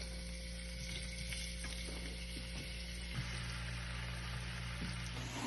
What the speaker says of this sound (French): on va mettre les frites dans le poêle